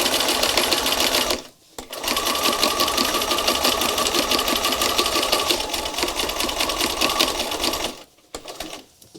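A sewing machine stitches denim along a marked line in long, loud, steady runs, pausing briefly twice before resuming, with no speech over it.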